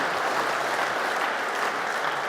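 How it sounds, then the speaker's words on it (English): An audience applauds steadily at a salmon conservation conference keynote, a dense even clapping that holds for the whole stretch at moderate distance, with no voices on top. "I'd like to give you a round of applause for all that you've done."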